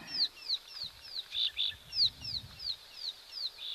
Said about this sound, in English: You can hear the emerald spotted wood doves there now.